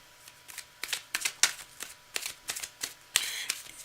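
Tarot cards are shuffled by hand in a series of quick, crisp riffling bursts at an irregular rhythm, close and fairly quiet with no talking.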